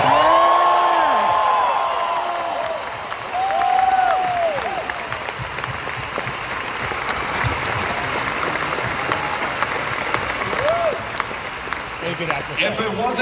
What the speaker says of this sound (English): I just want to say applause for my mentor, Mr. Peter Mayhew at this point.